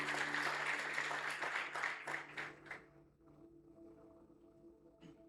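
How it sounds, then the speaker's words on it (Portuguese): Congregation applauding during a Sunday evening church service, a dense wash of clapping for about three seconds that quickly dies away into quiet room tone with a faint hum. "Você pode aplaudir o nome do Senhor?"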